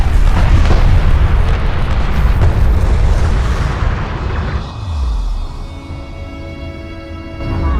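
A carrier under hostile fire in the Deserts of Kharak strategy game, a loud, sustained rumble of explosions and artillery blasts that thins into a lower, steadier roar toward the end.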